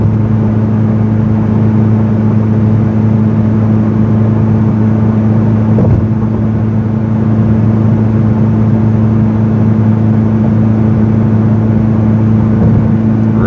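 A 2005 Ferrari F430 Spider cruising after warming up, its engine a steady, loud, even drone with a strong low hum and constant road rumble, unbroken throughout and without voices.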